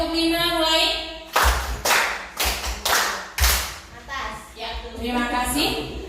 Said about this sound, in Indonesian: Ayo tepuk 5 mulai